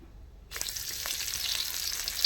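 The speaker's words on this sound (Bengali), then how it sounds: "এইভাবে আমি সবগুলাই ভেজে নিচ্ছি" Flour-dough breakfast snacks fry in oil in a pan. A sudden, loud, close sizzle starts after half a second of near-silence and continues steadily.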